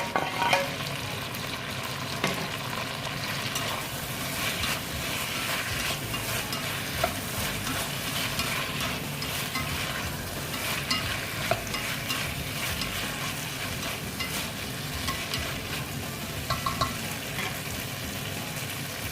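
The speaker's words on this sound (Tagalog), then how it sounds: "Ilagay na natin yung ating beef." Beef sizzles and fries in a pot for chao long while being stirred, with continuous crackling and occasional scraping clinks throughout and no voices.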